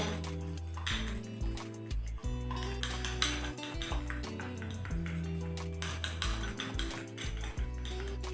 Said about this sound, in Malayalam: അത് നല്ലപോലെ മിക്സ് ചെയ്തെടുക്കാം കേട്ടോ.